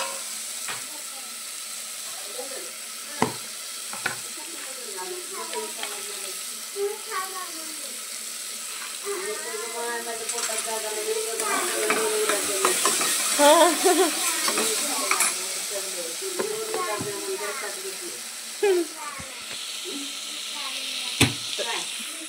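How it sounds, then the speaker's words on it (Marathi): Peanuts sizzle in hot oil for a tempering while a spoon stirs and scrapes the pan, a continuous close frying hiss broken by clinks, with a voice talking intermittently over it. "तर सर्व फोडणी आपण आता एकजीव करून घेऊया. त्याच्यात टाकू शेंगदाणे."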